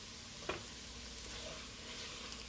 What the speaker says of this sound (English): you start with a hot, hot, heavy pot. Throw in 2 tablespoons of sugar.